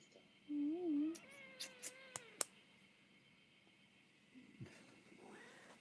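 A pet cat meows up close in a quiet indoor room, one drawn-out rising and falling meow followed by a few shorter, softer vocal sounds and light clicks.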